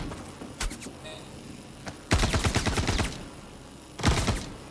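Gunfire in the video game Star Citizen: a short burst near the start, then a long rapid volley of shots around the middle and another loud burst near the end, with no talking.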